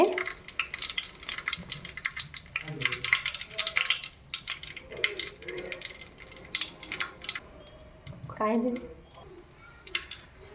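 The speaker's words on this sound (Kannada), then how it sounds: "ಸ್ವಲ್ಪ ಕರಿಬೇವಿನ ಸೊಪ್ಪು ಹಾಕೋಣ ಸಿಡಿಯುತ್ತೆ ಹಾಗೆ" Curry leaves spluttering in hot oil, giving a bright crackling sizzle that swells and fades while a person talks over much of it.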